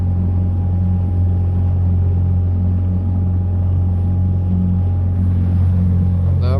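A motorboat engine running on the water near a reef, a loud, steady, close drone with a constant hum and no noticeable change through the clip.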